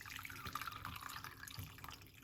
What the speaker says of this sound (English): So we're gonna pour it off.